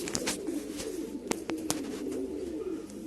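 A male white pigeon coos close by, a low continuous rolling call with a few sharp flutter or tap sounds in between.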